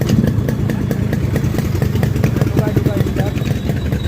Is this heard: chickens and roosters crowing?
no